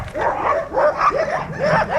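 Several dogs bark and yelp close by at a dog shelter in woods, in quick overlapping bursts, with some whimpering whines mixed in.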